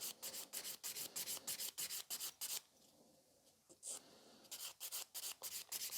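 Rapid rasping strokes of a file shaping sculpted fiber gel nail extensions, thinning the free edge, in quick rhythmic bursts, a brief pause midway, then more filing, close and clear with no talking.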